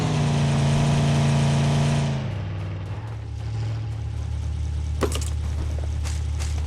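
A vehicle engine in the battle royale game PUBG revs loudly and steadily for about two seconds, then drops to a lower idle rumble, with a couple of sharp clicks later on.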